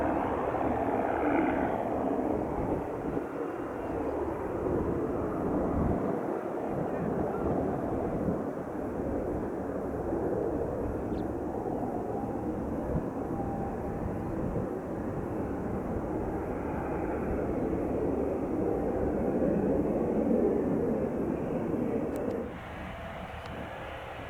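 Fixed-wing aircraft taking off from runway 8 right at Spirit of St. Louis Airport, a steady engine roar that holds for over twenty seconds, then drops slightly near the end.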